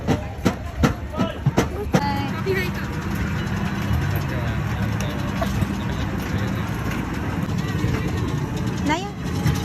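A park train ride at Sky Ranch Tagaytay rolls along with a run of sharp clacks at the start, then a steady rumbling ride noise under ongoing talk.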